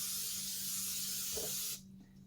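A short, steady hiss of an aerosol non-stick cooking spray, close up, lasting under two seconds before cutting off abruptly.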